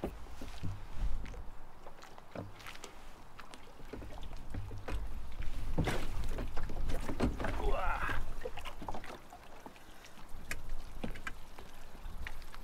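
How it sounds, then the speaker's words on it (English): Water slaps and sloshes while a small dinghy's hull knocks and creaks as someone clambers aboard, with bumps and rustling throughout. "getting in the dinghy for the first time"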